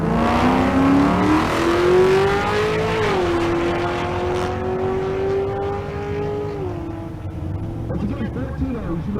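A Toyota Supra and a 2011 Corvette C6 run a drag race at a racing event, engines roaring loud and close with rising revs and a gear shift, under an announcer's voice.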